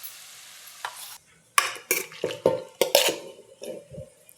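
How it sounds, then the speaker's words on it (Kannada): Tomatoes, garlic and coriander frying in a pan, with a spatula stirring and scraping in short bursts of clatter over a soft sizzle, close and fairly loud after a quiet start. "ಇದನ್ನ ಸ್ವಲ್ಪ ಫ್ರೈ ಮಾಡ್ಕೋತೀನಿ"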